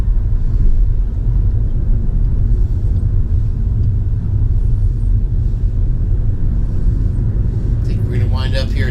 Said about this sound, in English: Kane's truck.